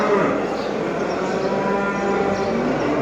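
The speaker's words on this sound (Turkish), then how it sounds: "yine güzel bir inek var" A cow moos at a live animal market in Kahramanmaraş, a loud, sustained, close low bellow over a dense background of market noise.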